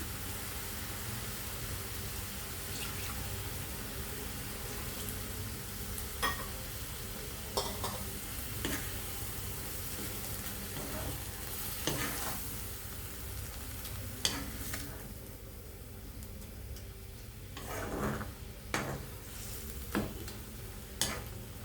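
Moong dal and toor dal fry in a pan with a steady, close sizzle while a spoon stirs them. Soft scraping knocks recur through the sizzle, and no one speaks.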